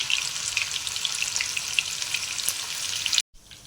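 Prawns for Prawn 65 sizzle steadily in hot oil, a dense continuous crackle that stays even and close, then cuts off abruptly near the end.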